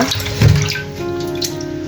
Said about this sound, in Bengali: এখন এগুলো আমি ধুয়ে নেব সুন্দর করে